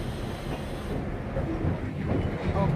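Train ride through a redwood forest in Felton, California: a continuous low rumble of rolling rail cars with faint clacks and a light metallic squeal, heard from onboard without voices.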